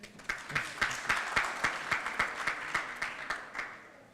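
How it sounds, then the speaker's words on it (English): Steady applause from a conference audience, a dense wash of clapping that holds at a fairly even level throughout with no voices on top. "Please clap for him."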